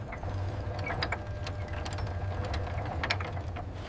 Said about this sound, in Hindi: हम इस बड़े पहिए को हाथ से घुमाते हैं।